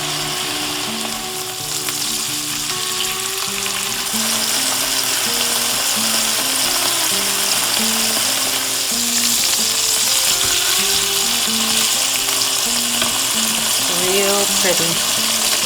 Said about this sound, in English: I'm going to sear the steak initially 1 minute on each side,